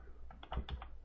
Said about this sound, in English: I'm just typing things in here.